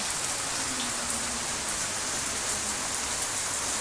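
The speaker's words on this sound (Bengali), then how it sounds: "ঝমাঝম বৃষ্টি হচ্ছে একদম" Heavy monsoon-style rain pours steadily outdoors in Kolkata, a dense, even hiss of drops hitting surfaces with no break from start to finish and no voices over it.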